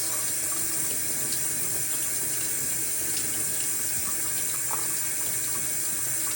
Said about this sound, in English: Carefully rinsing to make sure that it's not splashing.